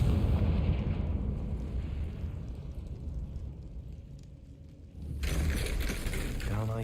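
Confringo explosive curse spell cast in Hogwarts Legacy, a loud rumbling blast with dense low-end that dips briefly before a second bright, crackling burst erupts near the end over continuous game background.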